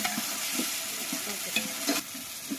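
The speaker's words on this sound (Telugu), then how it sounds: "అల్లం వెల్లుల్లి పేస్ట్ కూడా బాగా పచ్చివాసన పోయే విధంగా వేసుకోవాలి." Ginger garlic paste fries in a pan for chicken dum biryani, a soft, even sizzle broken by a few light spatula scrapes and stirring taps, fairly quiet and close, with no talk.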